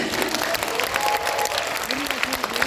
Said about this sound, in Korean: 박수 크게 쳐주세요